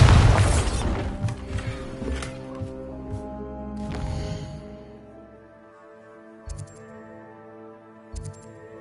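Bombarda spell detonating in Hogwarts Legacy, a loud bursting blast with crumbling debris that decays into a ringing tail, followed by faint magical chimes.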